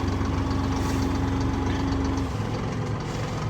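A Fendt 211 Vario tractor engine idles steadily up close, a continuous low rumble with a shift in pitch partway through.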